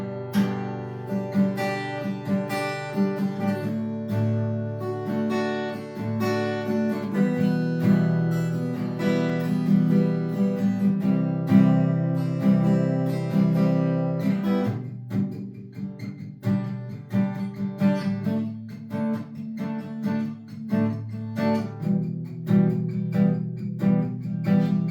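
Guitar rendition of a song in a beginner tutorial, a steady strummed chord progression with a shift partway through, sustained and moderately loud for about twenty-five seconds, with no voices.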